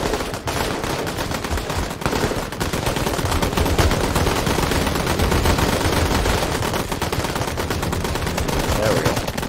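A mounted machine gun fires in long continuous bursts in a Call to Arms battle at a city defense line, with rapid loud rattling and other gunfire mixed in, sustained without pause.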